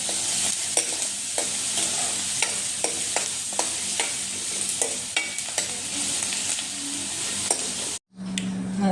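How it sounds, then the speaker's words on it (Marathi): Onion fries in a pan as a steady sizzle, while a spoon scrapes and taps against the metal in a fairly regular stirring rhythm. Near the end there is a brief break, then the frying goes on. "कांदा परतून घेते"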